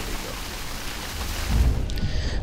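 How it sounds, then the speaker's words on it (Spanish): Steady rain hisses through a dark fantasy landscape in the video game Middle-earth: Shadow of Mordor, a continuous wash with a low rumble swelling toward the end. "Porque como llueve."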